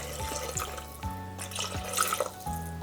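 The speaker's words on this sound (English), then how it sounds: "now let's add some water to get to" Water pours steadily into a Thermomix bowl, a continuous splashing trickle with a faint, repeating mechanical hum underneath, heard up close without talking.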